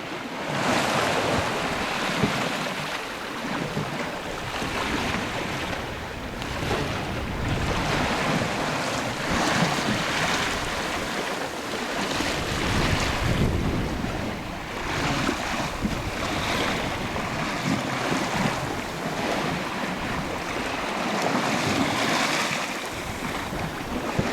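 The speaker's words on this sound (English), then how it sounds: "We have a force 3 to 4 southwesterly, so we're running before it, wind on the port quarter." Wind and waves surround the small yacht Mingming II as it runs before a force 3 to 4 southwesterly at sea in the Arctic, with continuous rushing wind noise and waves surging and washing in uneven swells.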